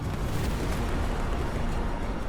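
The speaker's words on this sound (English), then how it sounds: "an Austrian ammunition wagon is hit and detonates in a tremendous explosion" A dense, sustained roar of a tremendous explosion as an ammunition wagon detonates in a battle documentary, loud and continuous broadband rumble with no distinct breaks.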